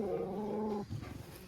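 A dog in Malana village lets out a low, drawn-out growl that trails into a few softer grumbling sounds, close by with no talking.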